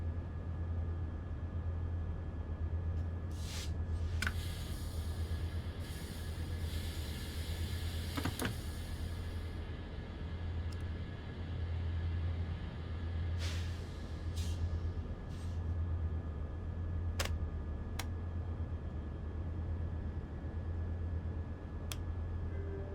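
A locomotive in the Train Sim World 4 game hums in a steady, low electric drone throughout, with occasional sharp clicks and brief hisses over it and no talking.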